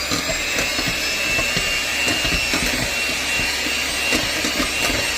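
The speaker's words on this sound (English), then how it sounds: "now it says to beat it with the mixer until it loses its shine" An electric mixer beating peanut butter chocolate fudge, a steady whirring buzz running continuously with light rattling, fairly close and with no talking.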